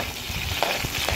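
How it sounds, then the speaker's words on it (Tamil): Sliced green chillies and garlic frying in oil for a Sri Lankan cabbage dish, a dense steady sizzle with faint stirring knocks, close and constant. "இப்போ இதை நல்லா ஆயிலில் ஃப்ரை பண்ணி கொள்ளுங்க."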